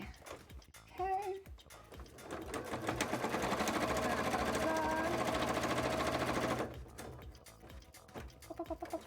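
A sewing machine runs close by, stitching the corners of a cosplay costume. A short start gives way to a sustained, rapid mechanical whir of several seconds, and then the machine stops with quieter clicks.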